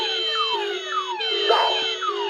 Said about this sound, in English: you'll hear and see the car alarms go off